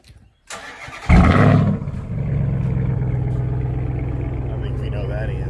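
A truck engine cranks briefly and catches with a loud burst, then settles into a steady, rumbling idle close by, a short quiet click and rustle coming first.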